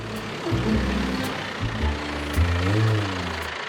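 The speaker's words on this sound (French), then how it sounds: "Faire revenir le tracteur pour aplanir le terrain." A tractor engine rumbles on a building site, returning to level the ground for an eco-house. Its deep, steady drone rises and shifts in pitch as the machine works, moderately close, with faint background noise.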